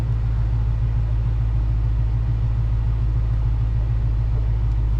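A 2022 Dodge Charger Scatpack 392 V8 idles with a deep, steady low rumble, close and continuous with no voices.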